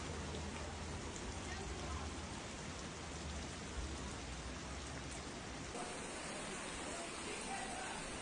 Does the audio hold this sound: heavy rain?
yes